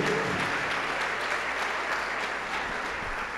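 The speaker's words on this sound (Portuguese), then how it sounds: "Você pode dar uma salva de palmas para a glória do nome dEle?" A church congregation gives a round of applause, an even wash of many hands clapping at a steady level, somewhat distant in a large room.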